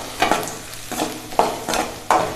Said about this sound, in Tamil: இப்போ நல்லா வதக்கிடுங்க.